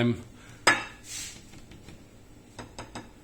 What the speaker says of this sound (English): I think you can still hear when I hit it with my nail.